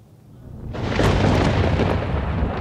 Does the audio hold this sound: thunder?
yes